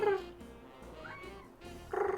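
A house cat meows back in two short calls, one at the start and one at the end, fairly close and clear, with quiet room noise in between.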